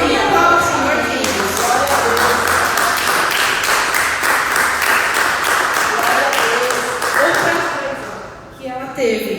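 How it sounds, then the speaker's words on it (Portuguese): A church congregation at an evening service claps its hands to the Lord in steady, rhythmic clapping that goes on for several seconds, with voices and music beneath it before it tails off. "Aplauda o Senhor, queridos."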